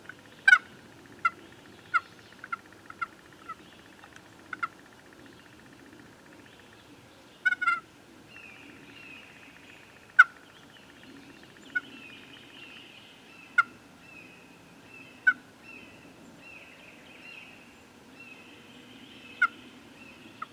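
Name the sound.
turkey roost call imitated by a hunter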